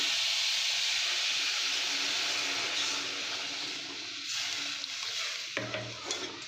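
Water poured into semolina that has been fried until reddish in a hot pan, giving a loud steady sizzle and steamy hiss that eases slightly before stirring clatter near the end.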